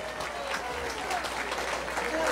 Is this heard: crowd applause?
yes